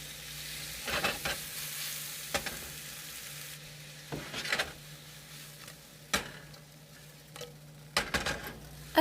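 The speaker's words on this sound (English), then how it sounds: "Once the pan is hot, add shrimps and let it sit for about 2 minutes." Shrimp fry in hot oil in a pan with a steady, quiet sizzle, punctuated by occasional louder crackles and scrapes of a utensil.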